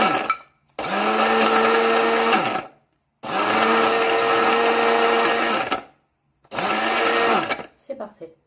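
Electric coffee grinder crushing cashew nuts in three loud whirring bursts separated by short pauses, the motor pitch dropping slightly as each burst winds down.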